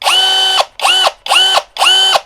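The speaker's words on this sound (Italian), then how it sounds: "Abbiamo un trapano brushless, se notate non fa nessuna scintilla," Mensela ED-LX2 brushless cordless hammer drill spinning up in four short, even bursts, each with a quick rise, a steady high whine and a fast wind-down, close and loud with no talking.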